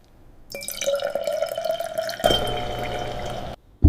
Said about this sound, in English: Filtration separates product from leftover reactant.